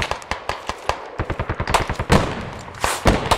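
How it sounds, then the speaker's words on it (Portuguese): Rapid bursts of video game gunfire from a hilltop firefight, a fast string of sharp, evenly spaced shots followed by a couple of heavier blasts, loud and close with no talk over it. "Tô atirando direito, em cima do morro"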